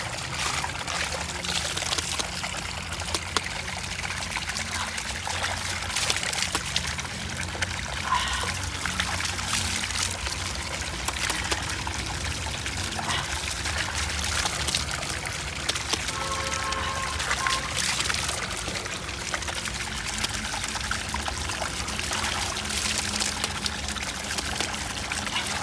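Water pours steadily from a tap with a continuous splashing trickle, close and fairly loud, while someone washes their face, with no talking over it.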